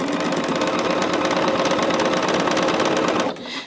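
A sewing machine runs fast and steadily as it stitches fabric, a loud close mechanical whir with a rapid even pulse that stops abruptly near the end.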